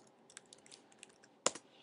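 Someone types on a computer keyboard, a handful of light scattered keystrokes ending in one louder, firmer key press, close and alone in a quiet room.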